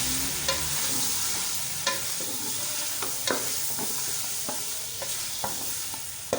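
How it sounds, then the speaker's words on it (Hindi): Chicken with ginger-garlic paste and browned onions fries in a pan, a steady close sizzle broken by repeated scraping stirs every second or so. "प्याज ब्राउन हो गए हैं, तो अब हम लोग इसको अच्छी तरह से भूनना है।"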